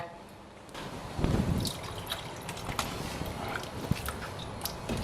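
Water is poured into a pan of butter bean gravy, a soft trickling and splashing that runs for a few seconds, close by and fairly quiet.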